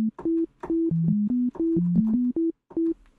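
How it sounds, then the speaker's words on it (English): Pure sine-wave synthesizer tone played as a short melody of separate sustained notes at shifting low-mid pitches, with brief silent gaps between them, clean and alone. "Simple sine wave to start."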